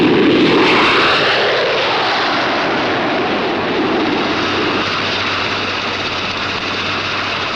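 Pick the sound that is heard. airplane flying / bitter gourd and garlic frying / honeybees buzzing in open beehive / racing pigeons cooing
airplane flying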